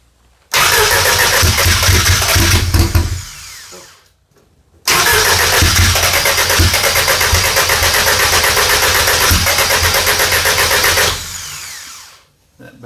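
Audi drag race car with a Fueltech-managed engine fires up for the first time, a loud rough idle running about three seconds, cutting out, then restarting and running steadily for about six seconds before dying away, close by with no talk.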